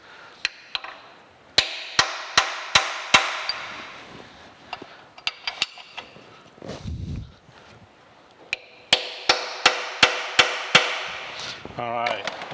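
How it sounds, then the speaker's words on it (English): A hammer drives a center punch into a metal motor-mount part during a metal planer restoration. Crisp, close metallic taps come in two quick rhythmic bursts, separated by a short quieter stretch. "we're going to come in here and put a center punch hole where we need to drill and tap these"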